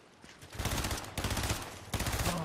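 Rapid automatic gunfire in the Fortnite video game, three loud bursts of repeated shots separated by short gaps, close and dominant.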